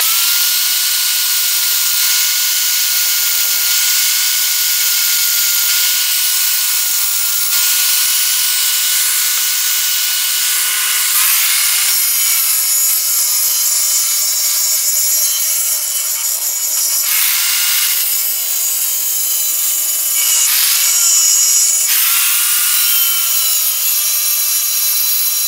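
Grinder working a hand-forged Damascus steel knife blade: a loud, continuous high-pitched whine and hiss runs throughout, with brief surges and pitch shifts as the steel is pressed and moved against the wheel.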